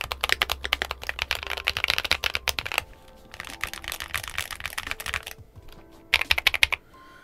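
Keys clatter on an Akko MOD007B HE PC keyboard fitted with tactile switches, bursts of fast, crisp typing separated by brief pauses, loud and close with no voices.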